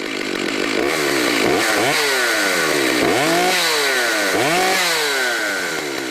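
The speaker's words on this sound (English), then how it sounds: "I'm excited to run this Makita with this 32-inch bar and the skip tooth chain." A Makita chainsaw fitted with a 32-inch bar and skip tooth chain runs loud and close, its engine revving up and down repeatedly in a continuous roar with no talk.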